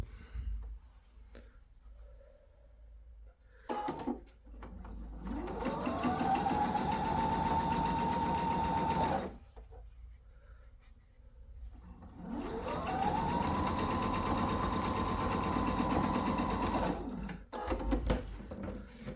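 Sewing machine stitching hat pattern pieces together for a sailor hat, two long steady runs of whirring motor hum with brief pauses and small handling clicks between them.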